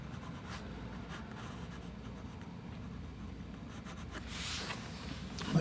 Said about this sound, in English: So I'm using an office pencil here